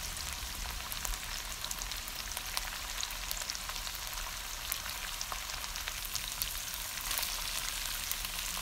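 Onion and carrots sauté in a pan with a soft, steady sizzle throughout, faint and even, with occasional light crackles and no voices.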